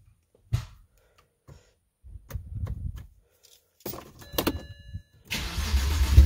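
A BMW 335i engine with upgraded turbos cranks in a few short bursts separated by pauses to prime it, then catches into a louder rough running rumble at the end.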